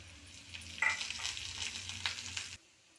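Onion, garlic, dried chilli and curry leaves fry in hot oil with mustard and cumin seeds for tomato dal, a close, steady sizzle with a few stirring scrapes that cuts off abruptly.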